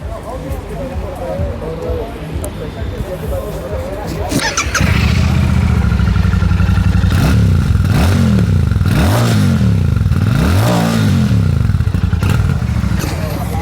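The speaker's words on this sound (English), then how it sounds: "So that was the exhaust note for you guys." A Royal Enfield Bullet 650 parallel twin with twin exhausts fires up with a clatter, then settles into a loud, close, steady idle broken by several rising and falling revs, someone talking over it.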